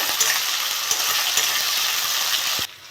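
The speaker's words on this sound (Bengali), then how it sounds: "চিংড়ি মাছগুলো লবণ হলুদ মাপে নিয়েছি এর মধ্যে একটু ভেজে নেব" Prawns coated in salt and turmeric sizzle over softened onions in a pan, a steady frying hiss punctuated by a few sharp spatula knocks before the sound drops away at the end.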